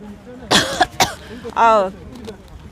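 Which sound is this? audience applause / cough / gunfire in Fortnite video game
cough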